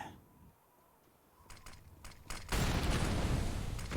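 Gunfire in Counter-Strike on the Nuke map during a professional StarSeries match: a few scattered shots, then a dense, loud barrage that runs to the end.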